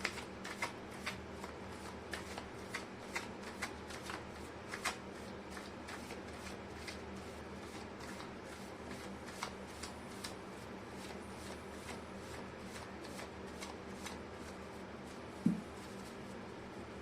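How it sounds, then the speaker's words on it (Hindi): Tarot cards are shuffled close up but quietly, giving a steady run of soft riffling ticks at an even pace, with one sharper tap near the end. "कर लेती हूँ कार्ड की शफलिंग।"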